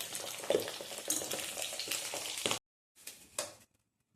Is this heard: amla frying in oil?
yes